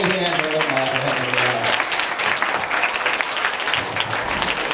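Audience at a magic show applauding a volunteer, a dense burst of clapping that fills the room and carries on steadily, near and loud, with no talk over it.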